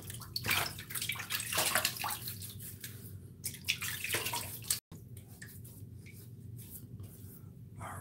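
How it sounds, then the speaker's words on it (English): Water splashes and drips at a sink as hands wet the cheeks before a wet shave, with a steady wash of running water, then quieter trickles and drips after a brief cut. "I'm going to go ahead and wet my cheeks real quick so I can get this proto lather on."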